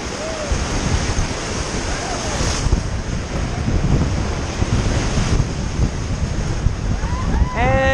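Whitewater rapids on the Kicking Horse River roar around a raft, a loud, continuous rush of churning water buffeted by wind noise, with no clear talk.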